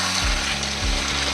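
Chicken curry for biryani frying in oil as it is stirred, giving a steady loud sizzle with low scraping pulses from the spoon moving through the pan.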